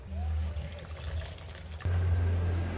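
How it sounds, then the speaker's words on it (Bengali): Leafy greens (shak) being washed in water, with splashing and pouring swells that pause briefly and then return louder, close by. "শাকগুলো আমি এবার সব ধুয়ে নেব।"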